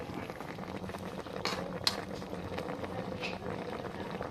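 Coconut milk simmers with vegetables and fish in a pot, a steady soft bubbling and hiss throughout, with a couple of brief utensil clinks.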